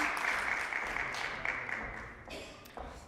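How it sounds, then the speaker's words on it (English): An audience at a student presentation showcase claps for a speaker, full steady applause that tapers off with scattered last claps toward the end. "Let's give one more big round of applause to Shannon."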